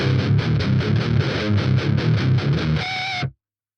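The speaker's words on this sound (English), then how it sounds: "I had a distortion sound" Distorted electric guitar played through a Vox ToneLab EX, loud chugging strummed chords in a steady rhythm, ending on a sustained ringing chord that cuts off abruptly.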